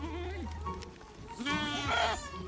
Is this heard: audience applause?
no